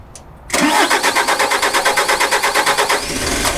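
A 4x4 overland van's engine cranks and catches, a loud, close starter churn with a steady pulsing rhythm that settles into a running idle.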